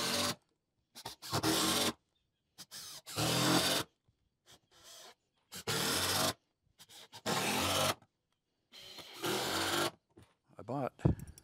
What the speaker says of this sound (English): Now I'll screw it down through.